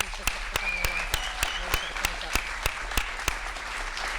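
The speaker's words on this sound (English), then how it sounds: "we'd like to give the guys a huge round of applause and a thank you for coming" Audience applause after a Q&A for the film Suffragette, heard as sharp, evenly spaced claps that keep a steady rhythm over a low crowd hiss for about four seconds.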